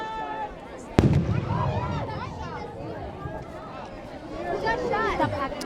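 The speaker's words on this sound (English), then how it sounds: "No, look, it's fireworks." Fireworks crack with one sharp bang followed by scattered bursts and a rumbling tail outdoors at a graduation gathering, heard beneath a lively crowd of overlapping chatter and voices.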